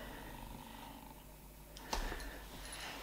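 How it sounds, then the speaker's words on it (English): A small new kitten purring close to the microphone, a steady low rumble running faint under room noise, broken near the end by a brief handling bump and rustle; no speech. "This is Sam, my new little kitten."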